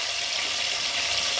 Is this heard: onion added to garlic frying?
yes